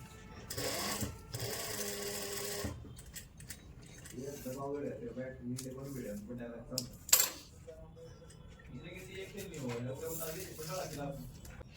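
A sewing machine stitches a lined kurti in two brief whirring bursts, then again near the end, while someone talks between the runs and a small metallic clink sounds midway.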